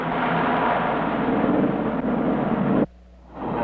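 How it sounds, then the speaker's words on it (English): A loud, steady engine roar from a hovercraft fire engine, with a rushing, blowing wash of air, drops away abruptly, then starts to swell back up. "this is a French fire engine that floats on air."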